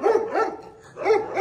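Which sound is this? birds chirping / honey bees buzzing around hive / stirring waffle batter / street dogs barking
street dogs barking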